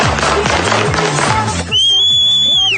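Teenagers' loud, sustained whistle cuts in over a thumping music track, holding steady for about a second near the end.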